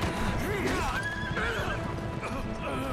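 In the video game Wo Long: Fallen Dynasty, a horse whinnies with a rising, wavering neigh over hoof clip-clops and dense battle noise, while a player talks.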